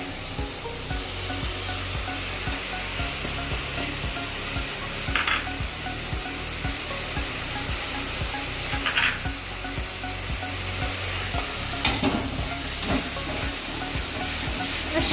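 Spice paste with ground coriander and cumin sizzling in a pan for Gandharaj chicken, a steady close hiss broken by a few sharper scraping stirs.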